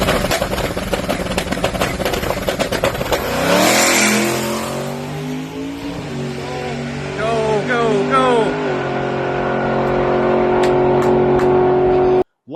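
A drag race car launches off the trans brake, a loud raw engine roar climbing through rising revs with gear changes, close and dominant, then cutting off abruptly at the end.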